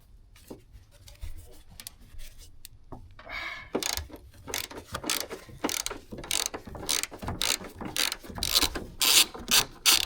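A 14 mm socket ratchet loosening bolts on an Acura MDX front strut, with quiet handling at first, then fast, uneven bursts of clicking pawl and metallic rubbing, close and fairly loud.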